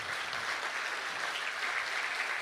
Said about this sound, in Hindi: अच्छी बात पर अच्छी तालियां बजनी चाहिए ताकि मंच अच्छी बात कह सके।